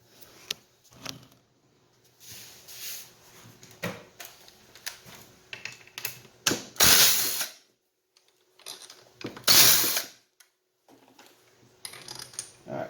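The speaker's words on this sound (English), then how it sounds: "We're going to remove those 2 bolts." A wrench works two Allen bolts loose on an airless paint sprayer, with scattered metallic clicks, scrapes and clinks, plus a few louder bursts of handling noise, close and fairly quiet between sounds.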